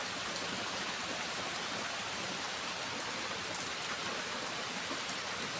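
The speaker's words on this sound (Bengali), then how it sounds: "প্রচুর কিন্তু বৃষ্টি হচ্ছে এখানে" Heavy rain pours down in a dense, unbroken hiss that stays even and steady throughout, with no voices heard over it.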